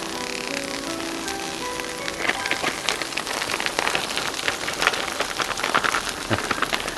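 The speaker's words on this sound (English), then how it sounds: "sometimes the rice will start popping around on you when you first put it on" Rice crackles and pops on a hot Blackstone griddle during a hibachi-style stir fry, with dense, rain-like spitting that grows busier and stays close and steady, with no talking.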